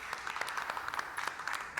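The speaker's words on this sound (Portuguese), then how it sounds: "salva de palmas pros caras mais uma vez aí" A group clapping in applause for guests at a football fan reaction get-together, a short, fairly quiet burst of scattered hands.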